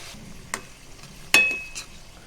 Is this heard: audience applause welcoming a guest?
no